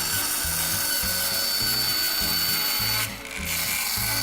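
A bandsaw cutting out a wooden handle makes a steady high whine over rhythmic low thumping pulses, close and continuous, with a brief dip near the end.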